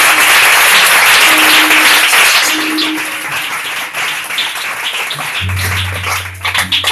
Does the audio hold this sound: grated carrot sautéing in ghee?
no